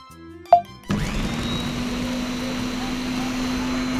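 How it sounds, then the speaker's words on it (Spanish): After a brief sharp click, a blender whirs on and keeps running with a steady, high-pitched motorized hum. "¿puedes prender la licuadora?"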